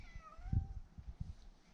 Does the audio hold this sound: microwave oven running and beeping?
no